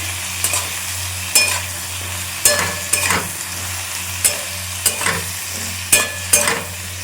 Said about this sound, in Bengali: অল্প একটু হলুদ আর নুন দিয়ে হালকা ভাজা ভাজা করব